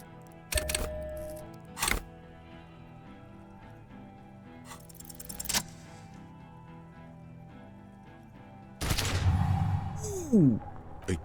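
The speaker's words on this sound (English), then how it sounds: "A plume of smoke and fire erupts from the gun, and your hand goes numb from the explosion." Gunshots in the game Disco Elysium, several sharp cracks separated by quiet stretches, then a louder, longer burst of noisy detonation and rising smoke-like rumble near the end, with no one talking.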